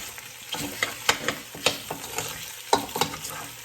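A spoon scrapes and stirs pasta with olive oil in a hot pan for a Tuscan-style dish, giving a run of uneven clacks and scrapes over a steady soft sizzle, close and fairly loud.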